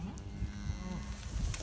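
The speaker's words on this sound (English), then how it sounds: "we finally got all these cows and calves in the lane" Cows and calves moo repeatedly, gathered in a lane on a working cattle ranch, with overlapping calls near and far against steady herd background noise.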